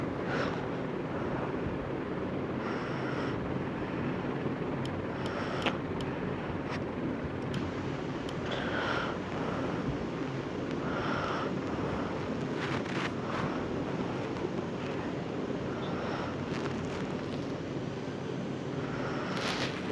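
An airliner taxis toward the runway in a flight simulator game, with a continuous low engine rumble and hiss running steadily throughout, joined by a few faint clicks.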